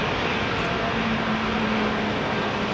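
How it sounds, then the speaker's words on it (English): Aircraft engines at Heathrow Airport produce a deep, bassy steady hum, loud and continuous with a low droning tone partway through. "Bassy hum coming from those engines"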